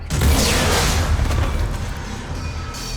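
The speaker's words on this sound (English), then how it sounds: "Bomb! Get back!" A bomb goes off in Mass Effect Legendary Edition, a loud deep boom that hits at once and rolls into a long rumbling, debris-filled roar that stays heavy for the full three seconds.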